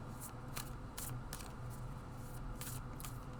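A deck of oracle cards is riffled in quick, crisp bursts, several short ruffles in a row over a faint steady background hum.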